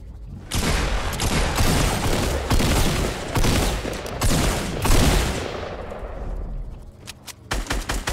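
Rapid bursts of video game gunfire in Fortnite, loud and dense, rattling almost continuously with a few sharp separate shots near the end.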